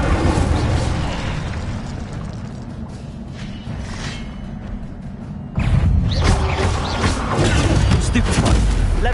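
Incendio fire spell cast in a Hogwarts video game, heard as loud booming bursts within continuous game action, with a sharper, louder blast partway through.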